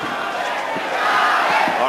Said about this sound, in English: The crowd chanting early for Chavez.